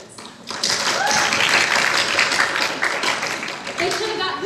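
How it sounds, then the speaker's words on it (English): A school audience at a Grease-themed event applauds Patty Simcox and her committee, a dense, steady wash of many hands clapping that swells quickly and holds loud throughout, with voices mixed in. "we all owe a big round of applause to Patty Simcox and her committee"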